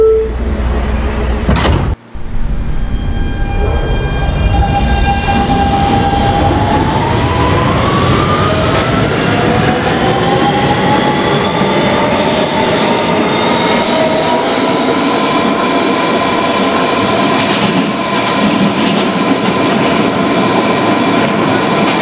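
An R160B Siemens subway train in a Roblox game accelerating on the BMT Broadway Line, loud steady rumble with rising electric motor whine tones climbing and holding, continuous throughout.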